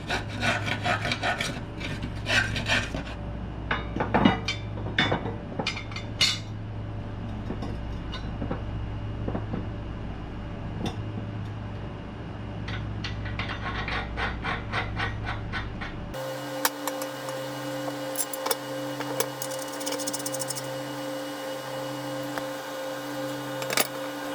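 Old grass is scraped off the deck of a Cub Cadet Ultima ZT1 54-inch zero-turn mower in a run of close, rough rasping strokes of uneven rhythm, with a steadier hum taking over near the end.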